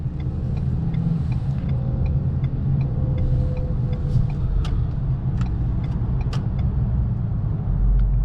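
A 2024 Ford Maverick XLT FX4 pickup gathers speed onto a highway, its steady, loud engine and road rumble droning from inside the cabin with no break throughout.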